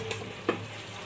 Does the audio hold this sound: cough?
no